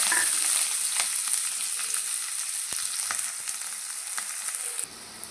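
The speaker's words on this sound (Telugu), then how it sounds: "ప్యాన్లో కొద్దిగా ఆయిల్ వేసుకొని ఉల్లిపాయలు వేయించుకోవాలి" Sliced onions fry in a little oil in a pan, giving a continuous bright sizzling hiss with occasional soft scrapes, steady and close before easing near the end.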